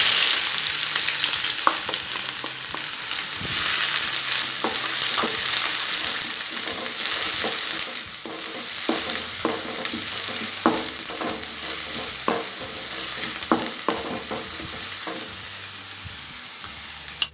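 Fennel seeds and finely chopped onions frying in hot oil for tomato rice, a dense continuous sizzle with repeated scraping taps of a spoon stirring the pan.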